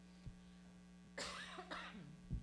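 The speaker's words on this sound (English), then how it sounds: "Sorry if I coughed on your mic." A single cough close to a microphone during an indoor talk, a short sharp burst over a low steady electrical hum, followed by a faint throat sound.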